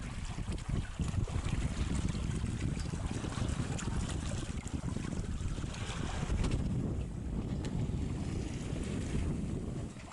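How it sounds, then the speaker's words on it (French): Steady light wind of about 8 knots rushing past a sailboat under autopilot at sea, with continuous wind noise buffeting the microphone over the wash of waves and water along the hull, no voices. "Le vent n'est pas fort, 8 nœuds, 14 km/h, mais nous permet de faire route."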